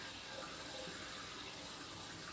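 Water escapes and trickles along the bottom of a buried, offset pipe, a faint steady hiss with no breaks, heard alone.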